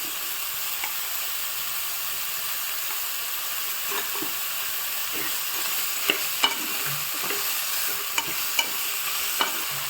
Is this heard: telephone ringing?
no